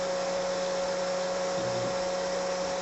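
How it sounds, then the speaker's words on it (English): A vacuum pump runs steadily during resin vacuum bagging, holding the bag under suction while the resin gels. It gives a constant loud whooshing hiss with a low, steady hum underneath and no voices. "We need to leave now the vacuum on until the resin has gelled."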